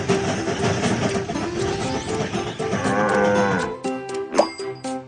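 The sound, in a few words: sheep on the train track in a children's train video game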